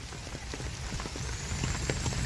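Light unseasonal drizzle falls in Sindhudurg on the Konkan coast, a continuous hiss dotted with scattered close drips and taps on a surface, growing slightly louder, with no talking.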